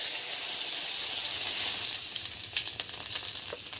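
Bay leaves and fenugreek seeds sizzle in hot oil at the start of a duck curry with white gourd. A close, steady frying hiss breaks into crackling pops toward the end.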